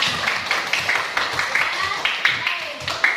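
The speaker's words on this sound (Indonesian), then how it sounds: "Tepuk tangan untuk kita semua." Rhythmic group clapping, steady beats repeating in time from many hands, fairly close.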